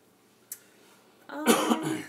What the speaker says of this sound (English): Excuse me. It's cough.